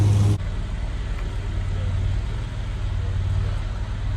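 Sports cars arriving at a rally meet, a steady close engine rumble with a low idling drone holding throughout, no voices.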